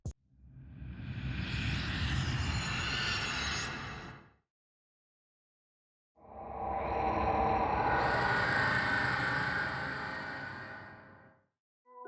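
Minecraft warped forest ambient sounds, two separate eerie swelling tones heard one after the other, each rising and fading with a quiet gap between them.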